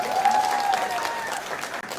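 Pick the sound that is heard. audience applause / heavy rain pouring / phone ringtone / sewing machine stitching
audience applause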